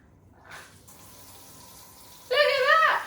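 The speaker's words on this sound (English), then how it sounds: "Look at that! We have water." A newly fitted bendable kitchen sink tap is turned on to hot and water starts running, a quiet hiss and trickle building to a loud, steady gush into the sink near the end.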